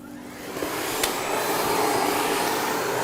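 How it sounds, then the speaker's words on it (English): A Miele Blizzard vacuum cleaner fitted with its parquet brush runs steadily on hard flooring, a loud, close, continuous airy roar that rises slightly after start-up and holds level. "Once the brush is clicked into position, you can start vacuuming."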